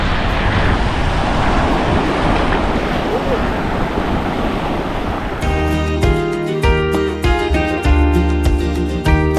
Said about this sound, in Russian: небольшие волны здесь